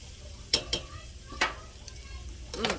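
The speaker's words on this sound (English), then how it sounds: "Now, you stir this." Someone stirs homemade chicken noodle soup in a pot, making a few separate spoon scrapes and knocks against the pot over a low simmering background, with no talk.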